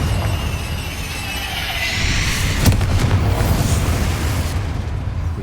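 A Confringo fire spell explodes in Hogwarts Legacy, a loud blast with a sharp burst near the middle, set against a rumbling roar of battle that keeps going throughout.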